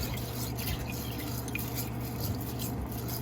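Rice-rinsing water poured out over a kitchen strainer, a steady liquid drip and splash lasting a few seconds, close and moderately loud, with no talking.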